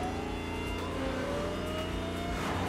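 An unusual-sounding car engine revs in the racing video game The Crew Motorfest, a steady, loud mechanical drone with whining tones, without talking.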